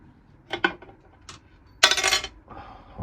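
Metal clinks and clatters as a motorcycle primary cover, its oil mostly drained, is taken off: a few short clanks early on, then a louder, longer burst of jangling metal, close up, with no talk.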